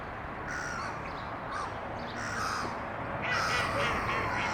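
Jackdaws give repeated short, harsh caws in loose bursts, some calls overlapping, fairly close and clear over a soft outdoor background.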